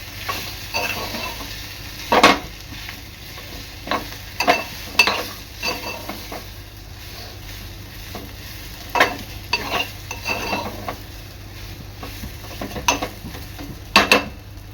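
Potato stuffing for fasting-style batata vada sautéing in a pan, with steady frying sizzle and repeated scraping stir strokes of a spoon against the pan at irregular intervals, close and without talk.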